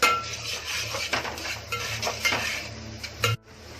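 Small chopped onions are tipped into a pan for soya chilli, with clinking of a utensil against the pan and a light sizzle, then a sharp knock and sudden drop to quiet near the end.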